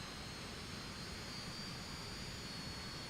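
Steady, loud jet roar from an Italian tandem-seat early jet trainer in flight, a constant broadband rush with a faint high whine and no talk.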